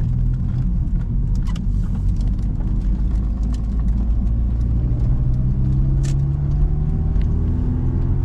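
Rover 200 BRM car engine, a loud steady close-up rumble with a low droning tone that rises slightly in pitch as the car pulls along, heard alone without talk.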